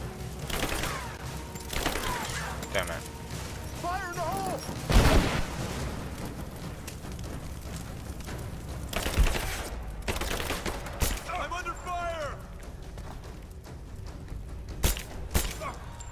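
Gunfire in the Rise of the Tomb Raider video game, with bursts of shots and heavy thuds scattered among mechanical clatter and game effects, loud and close.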